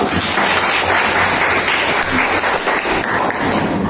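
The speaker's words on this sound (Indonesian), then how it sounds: "Tepuk tangan lagi untuk kita semua." Dense applause from a classroom audience during a teacher-training session, steady and loud throughout with a faint voice underneath.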